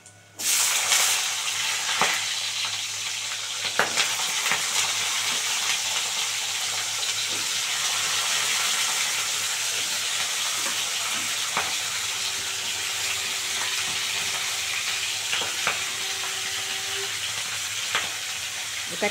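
Vegetables hit hot oil seasoned with black cumin in a pressure-cooked data chorchori, setting off a loud, continuous sizzle close by, punctuated by occasional sharp clicks and scrapes of stirring.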